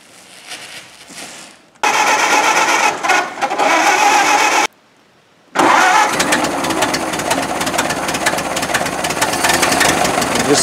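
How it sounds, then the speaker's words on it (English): A Doodle Bug tractor engine roars loudly and close after its first start, cutting out briefly and then firing back up into a steady, rough running drone. "threw some gas in the tank, started right up."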